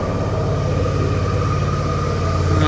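A 2012 Suzuki DL 650 V-Strom motorcycle engine idles steadily nearby, a constant low rumbling drone with no revving or other sounds.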